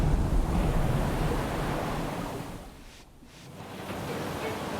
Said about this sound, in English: The power of Nazare's colossal waves is too much for this surfer to handle.